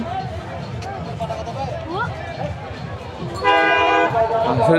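A train-like ride at Safina Park in Rajshahi sounds its horn, a loud sustained toot that comes in near the end after a stretch of people talking over outdoor park noise.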